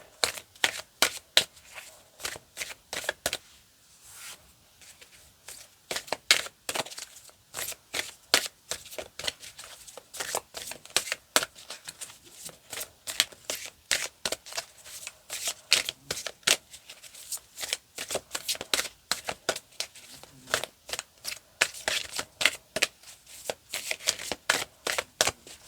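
Crystal tarot cards are shuffled over and over, a long run of quick crisp riffling slaps in uneven bursts, close and fairly soft with no talking.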